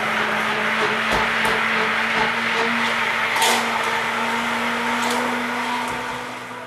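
A handheld blender purees corn chowder with a continuous, loud, steady whir that holds for several seconds before easing off slightly at the end.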